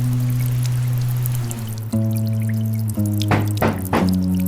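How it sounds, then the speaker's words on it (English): Running water as a sound effect in a hallway, trickling and pouring with drips and a few splashes over a low steady hum, fairly close. "Then the faint sound of water echoed down the hallway."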